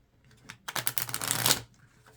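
Tarot cards being shuffled, a dense papery riffle building to a loud, steady flutter for about a second before stopping, with quieter card handling just before and after.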